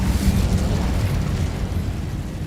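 Incendio fire spell cast in Hogwarts Legacy, a dense roaring whoosh of flames that fills the moment, loud and sustained with a rumbling low end and no voices.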